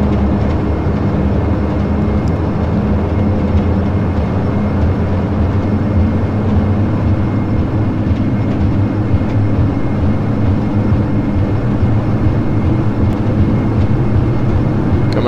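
Dash 8 Q400 turboprop airliner engines in a flight simulator game, a loud, steady roar with low droning hum holding constant throughout the takeoff roll, no voices.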